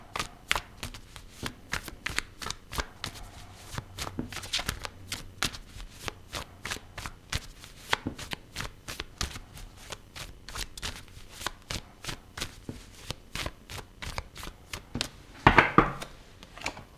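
Tarot cards are shuffled for a reading in a rapid, steady run of crisp riffling snaps close by, with a louder flurry of shuffling near the end.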